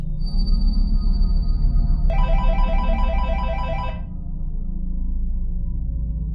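Telephone ringing in a Bangla animated horror story: a synthetic ringtone chirps for about two seconds, then a louder, richer electronic ring pattern repeats for another two before cutting off, over a steady low background hum.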